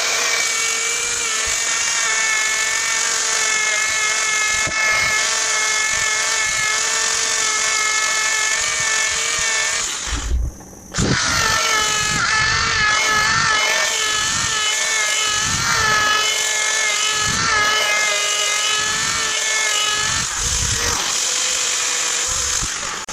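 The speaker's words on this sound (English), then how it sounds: "Sanding the inside of the bowl is just like sanding the outside, only a bit more fiddly because the access is more limited." A drill spins a sanding pad inside a wooden bowl turned from a floorboard, a loud steady whine held for most of the stretch with a brief break midway before resuming.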